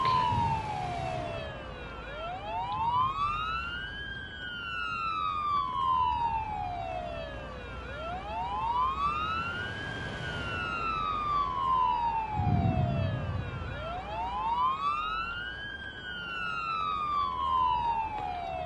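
Ambulance siren in a PS5 driving game, a wailing tone sweeping slowly up and down in repeated long cycles, steady and prominent over low engine rumble in traffic.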